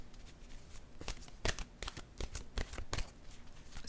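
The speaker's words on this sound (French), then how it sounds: "Je vais piger maintenant une carte de mon oracle de l'âme intuitive." Oracle cards being shuffled and drawn close by, a series of quick papery riffles and snaps at an irregular rhythm, fairly quiet.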